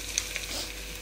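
Faint, steady sizzling comes from a pan of chicken fried rice ingredients, with onion, egg and chicken being stirred together. It is a soft continuous hiss with a couple of small ticks and no talking.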